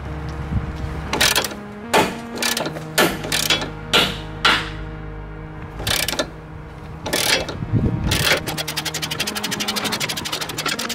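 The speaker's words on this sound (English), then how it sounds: "We need to remove the whole bolt that goes all the way through." A ratchet and tools work loose a through-bolt on a body mount of a 2018 Ford F150, giving a series of sharp metallic clanks and knocks, then a fast rapid clicking ratchet run near the end.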